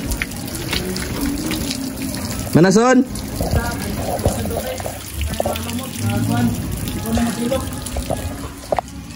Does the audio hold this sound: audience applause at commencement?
no